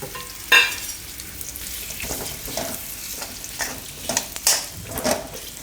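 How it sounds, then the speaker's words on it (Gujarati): Pitted dates fry in ghee while being stirred in a pan for a winter kheer, giving a steady close sizzle with a few sharp scraping spikes from the spoon. "થોડીક વાર ઘીમાં એને શેકી લેવું."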